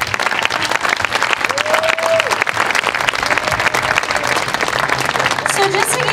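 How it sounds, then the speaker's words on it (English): Loud, dense audience applause and crowd noise after an elementary school children's dance performance, sustained and even throughout, with some voices mixed in. "And let's give them one more round of applause."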